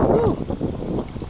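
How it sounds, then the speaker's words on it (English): Wind gusts roar across a snowy outdoor spot where RC trucks are being driven, a loud buffeting rush filling the short moment. "Wind blowing."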